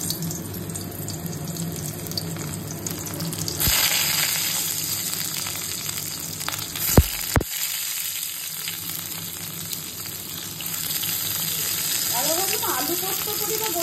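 Potato and pointed gourd fry in a pan, a continuous bright hiss and sizzle of hot oil held at an even level throughout, with brief clatters and a faint voice near the end.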